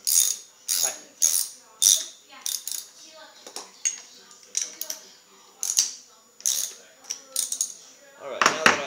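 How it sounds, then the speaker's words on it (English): Metal bike tool tightening a seat clamp bolt on a standard bicycle, giving a run of sharp, close clicks and ratcheting taps in an irregular rhythm, with brief pauses between bursts and no voices. "you can set your hand wrench or your torque wrench to tighten"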